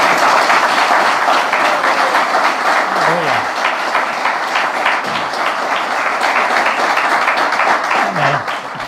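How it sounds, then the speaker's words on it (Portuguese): Sustained, loud applause from a church congregation fills the whole stretch, steady clapping with scattered cheers and a few voices mixed in. "Vamos dar uma salva de palmas para Jesus."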